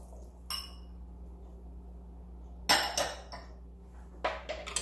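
Escarole and meatballs going into a pot of Italian wedding soup, heard as a few separate clinks and knocks of a utensil against the pot between quiet gaps, close by.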